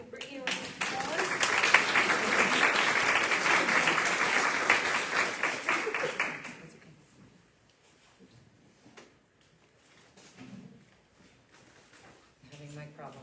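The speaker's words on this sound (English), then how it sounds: "let's give Brittni a round of applause" Audience applause following a Lunch & Learn talk on organ donation with the Iowa Donor Network, loud dense clapping for about six seconds that fades out, followed by quiet room noise and faint murmuring.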